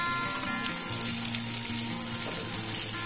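Vegetables and tomato frying in a pan, a dense, even hiss of sizzling oil held steadily at close range, with a faint low hum underneath and no talk.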